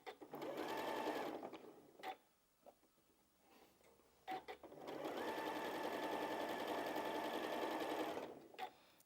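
Sewing machine feeding quilt block fabric, two close bursts of steady whirring stitching separated by a quiet gap filled with faint handling clicks.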